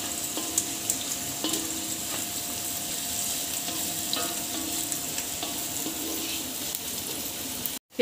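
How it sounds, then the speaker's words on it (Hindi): Onions frying in a pan for chowmein, a steady close sizzle with occasional stirring clinks, ending abruptly. "प्याज हमारी भुन गई है।"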